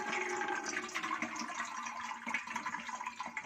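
Water from soaked sago pearls pours through a kitchen strainer set over a pot, a steady close splashing trickle that runs the whole time with slight surges.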